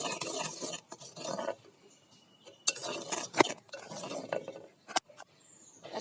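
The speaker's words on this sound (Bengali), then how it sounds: "এই যে এর মধ্যে দিয়ে দিব এক চা চামচ চিনি।" A teaspoon stirs sugar into masala tea brewing in a clay pot, scraping and clinking against the sides in irregular close bursts separated by brief pauses.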